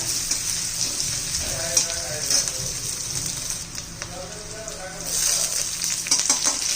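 Chopped onions sautéing in a hot pan while cooking a cluster bean vegetable dish, a steady close sizzle with occasional stirring scrapes, under faint background talk.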